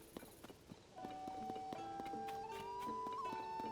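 Horse hooves clip-clop in The Legend of Zelda: Tears of the Kingdom, an irregular run of light steps up front that carries on under steady tonal game music.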